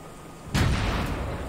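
A single tank cannon shot fires in the video game World of Tanks, a sudden loud boom that cuts in midway over a quiet hum and then rolls off into a lingering rumble.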